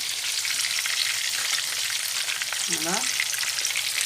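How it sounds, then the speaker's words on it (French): Vegetables cook over low heat in a pan, with a steady, even sizzle running throughout and a brief spoken word near the end. "les légumes sont en train de cuire à feu doux"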